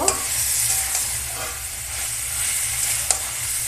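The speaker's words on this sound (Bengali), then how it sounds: "এবার ভালো করে কষিয়ে নেব" Chicken and fried potatoes are stirred and sautéed in a pan. The close sizzle is loud and continuous, with soft scraping and a sharp click near the end, and no one speaks.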